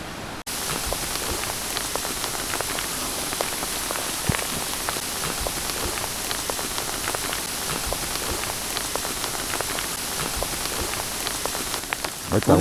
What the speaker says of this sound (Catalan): Una bona granissada.